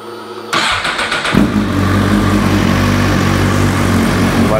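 A 2017–2021 Suzuki GSX-R 1000 motorcycle cranks with a short starter whir, fires up, and settles into a steady, loud, close idle that keeps running evenly after a routine oil change.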